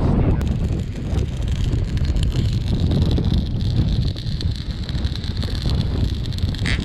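Gusty wind rushing past the microphone around an outdoor cooking fire while jerk rabbit cooks, a loud continuous roaring buffet that fills the whole stretch.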